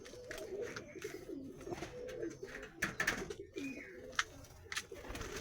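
Pigeons in a loft coo in soft, low, throaty phrases, several birds close by, with wing flutters and scuffling between calls and no voices.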